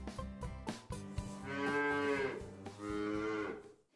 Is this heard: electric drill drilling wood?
no